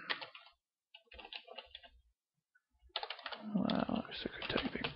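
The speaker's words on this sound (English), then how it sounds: "Well, I'm sick of typing." Quick clicks of typing on a computer keyboard come in bursts with short pauses, close and fairly quiet, with some talking mixed in.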